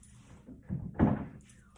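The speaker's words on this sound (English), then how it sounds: "I thought someone was at the door." A door closes upstairs in a building with a shop below, giving a dull, muffled thump with a brief rattle, heard faintly against a quiet indoor background.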